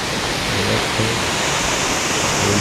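A waterfall about thirty metres high, heard from where the water begins its drop: a loud, constant broadband roar with no breaks.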